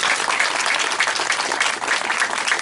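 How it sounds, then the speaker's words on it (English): A room of event guests claps for Boyd's Nest, the caterers, in a steady, dense round of applause that stays loud and even throughout, with no voices over it. "A round of applause for Boyd's Nest"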